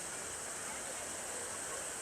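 A park fountain and waterfall beside the Petronas Twin Towers in Kuala Lumpur give a constant, even rush of splashing water, moderately distant and unbroken throughout.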